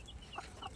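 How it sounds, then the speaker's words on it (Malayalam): A hen with her newly hatched chicks at home gives a couple of soft, brief clucks over quiet background noise. "നമ്മുടെ ഒരു കോഴിക്കുട്ടിതാ."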